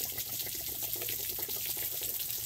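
Water pours and splashes steadily as it drains from a travel trailer's 6-gallon hot water heater with the pressure valve open, a continuous close rush with a gurgling texture and no pauses.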